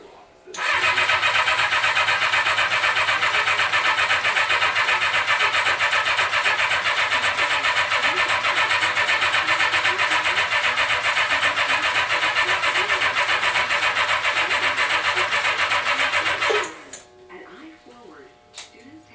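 A 1975 Honda CB550 motorcycle engine cranking on a cold start after sitting with dry fuel: a loud, continuous whirring starter grind held for about sixteen seconds without catching, then cutting off abruptly.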